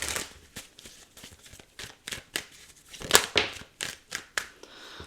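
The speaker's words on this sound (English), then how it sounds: "Well, I haven't finished shuffling yet" Tarot cards being shuffled by hand, a series of crisp, papery riffles and slaps in uneven bursts, close and fairly quiet with no talking.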